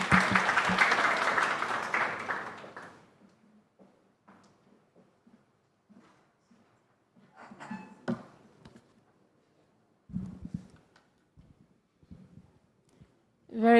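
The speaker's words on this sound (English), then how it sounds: "Please give her a round of applause as she comes." An audience at a talk on reducing family poverty applauds as a speaker comes up; clapping is loud for about three seconds, then fades into near silence broken by scattered taps and small handling noises.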